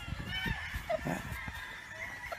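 White gamefowl brood stag, a selected secret white, gives short clucking and honking calls close by, amid scattered background voices and yard noise.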